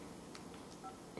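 Keypad dialing tones from a BlackBerry Storm 9530 smartphone, a few short faint beeps spaced irregularly over a steady background hiss, with no talking.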